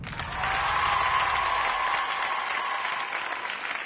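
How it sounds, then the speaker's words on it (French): Studio audience at a French Sunday television show breaks into sustained, dense applause for Jacques Martin, a loud, even roar of many hands clapping. "sous vos applaudissements, Jacques Martin"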